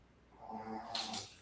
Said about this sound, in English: I can hear the snoring sound.